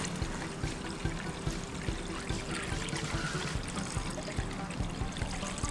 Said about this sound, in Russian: и заливаем водой